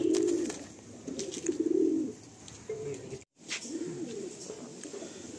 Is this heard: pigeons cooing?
yes